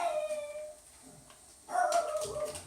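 Biscuit the dog lets out a couple of drawn-out whining howls, the first trailing off and a louder second one starting after a short pause, heard close by with no talking.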